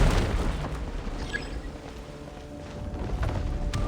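A breakable wall is smashed apart in Genshin Impact, giving a loud, booming crash at the start that settles into a rumbling decay, with lighter debris and effect sounds trailing after.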